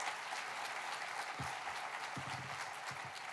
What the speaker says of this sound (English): Let's give Judge Bagneris a nice warm round of applause.